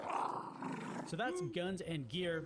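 A dog in the Far Cry 6 video game gives low growls and throaty roars under a man's speech, with a short rumbling burst followed by several snarling bursts beneath the voice.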